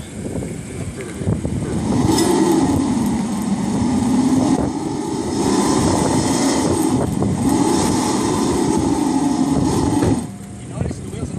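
A 2014 BMW X5 driving all four wheels on test rollers, a loud steady engine and roller drone that rises and falls in long surges, with someone talking over it.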